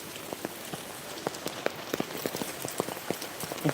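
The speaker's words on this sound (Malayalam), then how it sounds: "മഴ കൂടുന്നല്ലാണ്ട് കുറയുന്നില്ല" Rain patters down during an evening walk, scattered sharp drops tapping on a nearby surface in an irregular rhythm over a soft continuous hiss, fairly quiet and with no voices.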